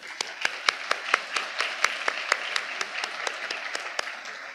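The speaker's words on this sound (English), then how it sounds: "So let's give them a round of applause." A small audience at a mayor's community workshop and neighborhood awards event gives a short round of applause, individual claps distinct and fairly sparse, moderately loud and close.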